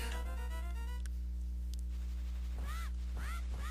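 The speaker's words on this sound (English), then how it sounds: "But how will we chase him? With a bird, of course." In Zelda: A Link to the Past, the summoned bird that carries the player gives a few bright, rising-and-falling chirping calls near the end, over loud, steady game music and a droning tone.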